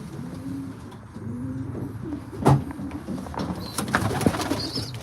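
Young racing pigeons squeak and coo inside a loft, a few soft calls repeating close by over a steady room murmur, with brief rustles and flutter between them.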